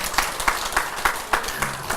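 An audience at a Buddhist dharma talk claps in a slow, rhythmic unison beat, about eight evenly spaced claps, close and fairly loud.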